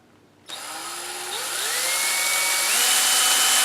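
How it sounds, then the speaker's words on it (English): A power drill bores a hole in a plastic bait bucket lid, kicking in abruptly and whining steadily as the motor pitch climbs in steps, loud and close with no voices. "So let me go ahead and drill that."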